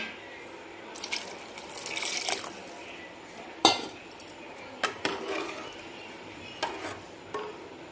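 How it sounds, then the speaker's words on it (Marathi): Hot water pours into a pot of mutton curry with a steady splashing rush, joined by clinks of metal and scattered drips, close by. "थोडंसं आपण गरम पाणी सोडणार आहे"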